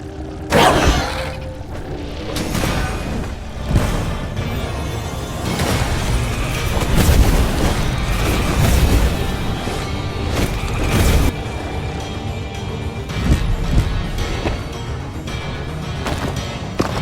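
Repeated booms, crashes and thwacks as dungeon rooms are destroyed in the video game Dungeons 4, a dense, loud run of impacts and explosions over a continuous game soundscape with no talk.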